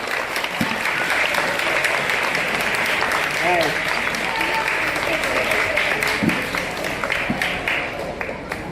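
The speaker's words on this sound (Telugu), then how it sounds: "అందరు చప్పట్లు కొట్టండి గట్టిగా" An audience at a government employee retirement ceremony clapping loudly, a sustained, even roar of many hands with occasional sharper claps standing out, continuing throughout without pause.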